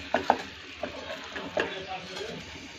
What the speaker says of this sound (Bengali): আমি এইভাবে আস্তে করে খুব আলতোভাবে নেড়ে নেড়ে ক্যারামেলটা তৈরি করে নেব